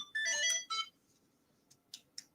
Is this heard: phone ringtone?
yes